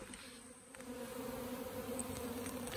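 Honeybees buzzing around a hive where a swarm is being handled, a steady droning hum from many insects, close and continuous, with a few brief sharper buzzes passing by.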